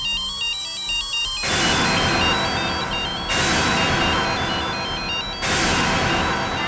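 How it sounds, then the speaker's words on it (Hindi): Telephone ringing repeatedly on the other end after a call is placed in a Hindi CID TV crime serial, loud and close, three bursts of electronic ringtone with no talking. "अरे मैं फोन करता हूँ।"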